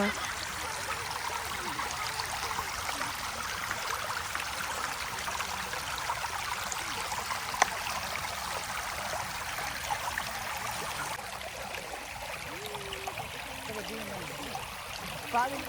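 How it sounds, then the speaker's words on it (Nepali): A small stream burbles and trickles steadily throughout beside grazing cattle in rural Nepal, a constant gentle wash of flowing water with faint voices now and then. "यहाँ चाहिँ अब खोला बढ्दैछ"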